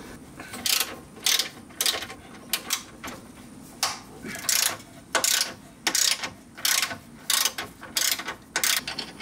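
A ratchet working loose sway bar bolts on a Subaru WRX, bursts of quick clicking repeated again and again with short pauses between strokes, close by and alone.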